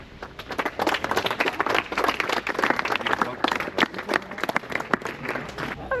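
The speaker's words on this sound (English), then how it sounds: "That was really nice of them, a round of applause." A crowd gives a round of applause on a street in Lucca, Italy, with dense, steady clapping from many hands lasting throughout, fairly close and loud, with voices mixed in.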